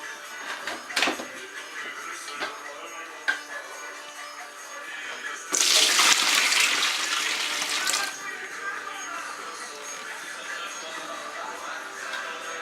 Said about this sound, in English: discard the water